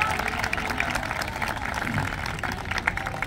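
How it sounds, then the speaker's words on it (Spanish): At a Mexican mariachi music show, an audience claps to welcome a young girl singer. The dense, crackling applause is continuous, with a faint voice underneath. "quiero que le dé un aplauso por favor para recibirla"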